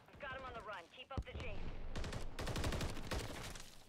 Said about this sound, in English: My god, I shot like 8 times